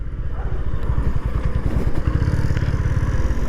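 A Honda CB 350RS motorcycle is ridden, its engine rumbling loud and close with a rapid, steady thumping pulse and some wind rush, and no voices.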